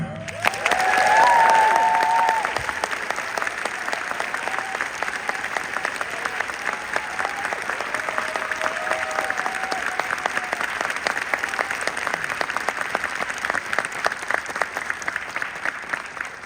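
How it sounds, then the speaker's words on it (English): Enthusiastic crowd applause for cast members being introduced on stage, steady and sustained throughout, with a brief whistle and cheer near the start. "I want every enthusiastic applause for each individual that's about to come out"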